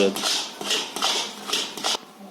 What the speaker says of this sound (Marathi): आपल्याला अजून 13 मिनिटं झाली ढवळत